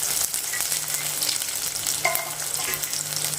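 Garlic and peanuts fry in oil in a pan while being stirred, producing a dense, steady sizzle close by with a few scraping stirs and no voices.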